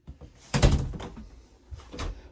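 A door to the hallway inside a 2020 Cyclone RV swinging and shutting, giving a couple of close hollow thunks and a latch knock with a softer bump at the end.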